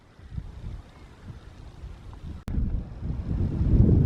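Wind blows outdoors on open access land near a pond, a steady low rumble buffeting the microphone, briefly cut off and then returning stronger and gustier.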